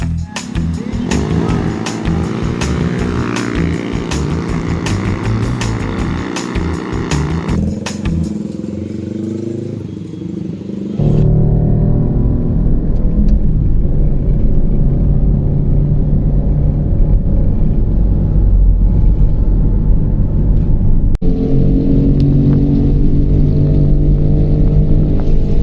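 Motorcycles fitted with loud aftermarket exhausts (knalpot brong) rumble and rev up close with a heavy, continuous roar, while a voice speaks intermittently underneath.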